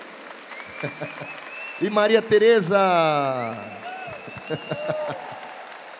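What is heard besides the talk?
applause from audience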